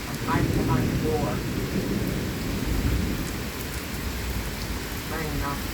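A severe thunderstorm in southeastern Pennsylvania with damaging winds: heavy rain pours steadily and loudly throughout, with low thunder rumbling underneath close by.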